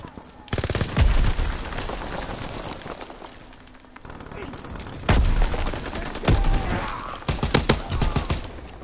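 Rapid gunfire from the Call of Duty WWII video game crackles in loud bursts and single sharp shots over a dense battlefield din, with short quieter gaps between volleys.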